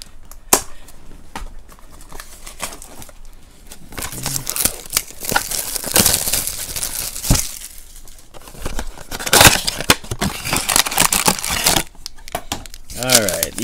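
A Panini Prizm football blaster box is torn open up close with crinkly ripping and crumpling of cardboard and wrapping, in scattered bursts spread over several seconds, and a person talks in between.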